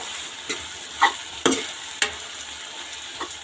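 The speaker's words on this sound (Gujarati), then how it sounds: "હવે આપણે ચમચાથી હલાવી દઈશું" A spoon stirs eggplant bharta with green onion and green garlic in a pan, over a soft steady sizzle, with four or five distinct scraping strokes spaced about half a second apart and no voices.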